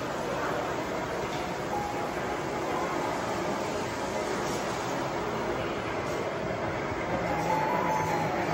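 A model train rumbles steadily along its track at a model train museum, a faint, even running noise with no distinct clacks.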